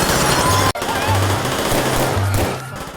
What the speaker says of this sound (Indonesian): Para anggota geng berusaha membunuh Saucedo dengan tembakan membabi buta.